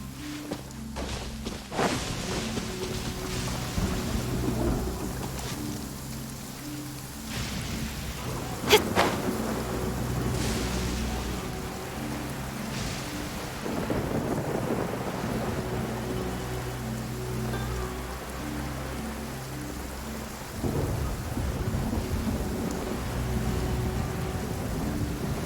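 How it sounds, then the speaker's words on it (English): A heavy downpour in Genshin Impact hisses steadily and loudly throughout, with a sharp thunder crack partway through and faint footstep-like thuds beneath the rain. "Quite a downpour."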